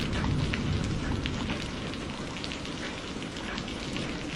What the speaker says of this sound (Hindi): कितनी देर से बारिश आ रही है, रुकने का नाम ही नहीं ले रही।